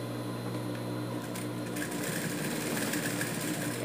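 Sewing machine stitching a small dog shoe, a steady rapid mechanical whir with needle clatter that runs without pause throughout, close and even.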